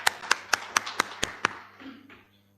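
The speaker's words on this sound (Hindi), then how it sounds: "इनके लिए भी एक जोरदार ताली है।" Applause for a participant at a gender sensitization talk held in a room: about seven sharp, evenly spaced claps in a quick steady rhythm, fairly close and clear, fading into a soft murmur with no speech over it.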